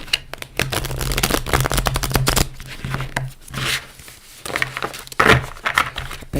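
Cosmic Tarot cards by Norbert Losche, thin plastic-coated stock, are hand-shuffled overhand. The close, continuous papery riffling and flapping comes in bursts and briefly pauses midway.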